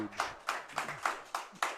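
Spectators at a pickleball match clap in an even, rhythmic beat, six sharp claps roughly a quarter second apart, moderately close and with no talking.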